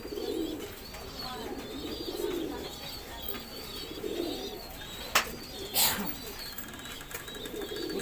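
Pigeons coo softly in repeated low, throaty phrases, with a couple of brief rustles or wing flaps in between.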